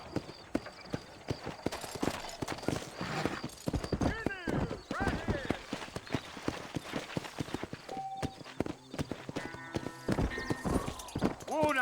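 Horse hooves clip-clop at a steady walking rhythm while riding in the Red Dead Redemption video game, with a whinny and character dialogue spoken over them.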